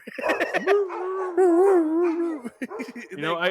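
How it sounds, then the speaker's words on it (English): A dog howls in a long, wavering cry with rising and falling pitch, followed by shorter yips and whimpers, loud and close. "pretty sure I can find a dog sound effect"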